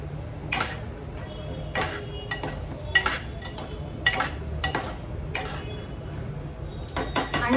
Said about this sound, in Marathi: अजून मिक्स करून घ्यायची त्याला चांगल्यापैकी